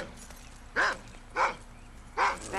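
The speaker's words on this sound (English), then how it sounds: "I should have warned you about the neighbor's dog." A neighbor's dog barks three times, sharp and fairly close, with pauses of about half a second between the first two barks and a longer gap before the last.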